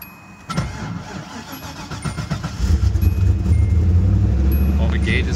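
A Nissan 300ZX Z31 fitted with a 5.3 LS V8 cranks after a brief rattle, fires at once, and settles into a loud, steady, rumbling idle close by.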